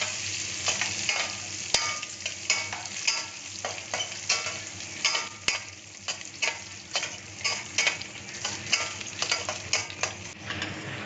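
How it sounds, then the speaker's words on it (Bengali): Cashews and raisins frying lightly in ghee, a continuous bright sizzle with repeated stirring scrapes and clicks at an irregular pace, close and clear with no talk. "হালকা করে কিশমিশ আর কাজুটা নিয়ে ভেজে নিচ্ছি।"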